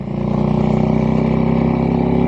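A Harley-Davidson Electra Glide police motorcycle engine revs steadily through loud Screaming Eagle aftermarket exhaust pipes, a deep throbbing rumble held close and constant with no talking.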